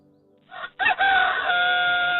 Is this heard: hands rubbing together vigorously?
no